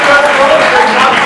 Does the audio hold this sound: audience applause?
yes